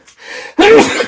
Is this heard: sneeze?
yes